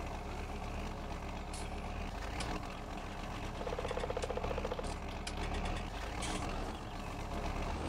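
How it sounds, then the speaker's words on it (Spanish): A tractor engine in Farming Simulator 19 idles and drones steadily, a low, constant mechanical rumble with a brief rougher throb midway and occasional faint clicks, no voices. "Como el sonido del tractor, tío."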